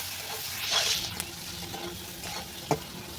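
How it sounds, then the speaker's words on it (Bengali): Roti frying in a pan with spices stirred in, a steady soft sizzle with scraping stir sounds, a brief hiss burst early and a sharp clack near the end, no talking. "সুন্দর করে আমি রুটিটাকে ভেজে নেবো"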